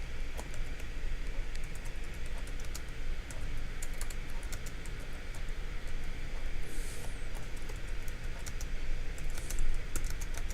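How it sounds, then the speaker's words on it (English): Rapid keyboard typing clicks away steadily under a constant low background hum, with quick bursts of keystrokes throughout. "all I need to do is point and click and begin typing"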